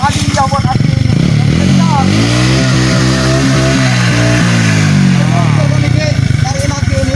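A motorcycle engine runs loud and close at a steady idle with rhythmic mechanical clatter, continuous under ongoing conversation between several people.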